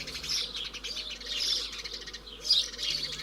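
A small, lively bird chirps near its nest in a rural French habitat. Quick high twittering calls repeat almost continuously, fairly close and clear, with no talking.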